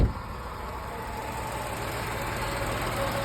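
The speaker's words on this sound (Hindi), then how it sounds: "मैं आपको जस्ट इंजन की आवाज़ सुनाना चाहता हूँ कि 8 साल बाद इंजन की आवाज़ कैसी रहती है टैगो की।" A Tata Tiago's three-cylinder Revotron engine, eight years old, idles steadily up close, giving a continuous even hum with a faint mechanical vibration and no talking.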